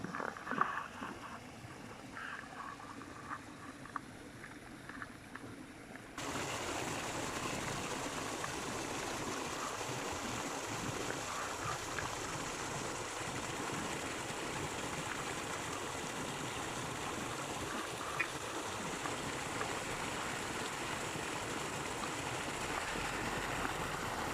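Water rushes in a soft, continuous hiss from a waterfall some distance away, growing a little fuller after the first few seconds.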